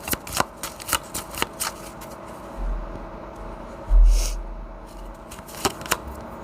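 Tarot cards are handled and shuffled close by in a series of quick, crisp riffling snaps with soft rustles and a low thump between them.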